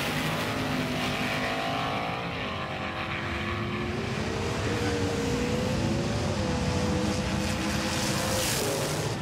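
Race cars roar around a track at a racing battle event, engine pitch rising and falling as they pass, a continuous loud drone with no speech.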